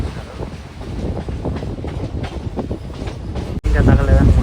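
A Kanniyakumari special express from Visakhapatnam to Tirupati running on the main line, with a loud, continuous rumble of wheels and carriages and wind noise. A brief dropout comes before a louder burst near the end.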